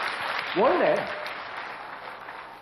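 An audience applauds steadily at a Beethoven lecture-concert, a dense patter of clapping that runs throughout while a voice speaks briefly over it.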